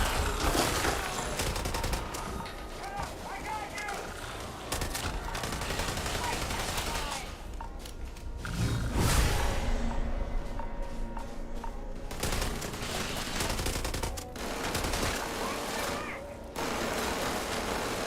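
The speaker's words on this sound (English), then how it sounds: "What the hell are you guys shooting at?" Sustained heavy gunfire in the space game Starfield: dense, loud bursts of shots and fusillades roll almost continuously, with brief dips, and no clear speech over them.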